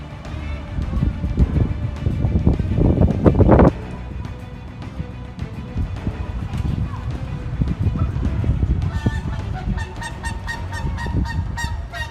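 Swan honking repeatedly as it chases a police officer outdoors, loud harsh calls over wind noise and a busy background, with voices talking throughout.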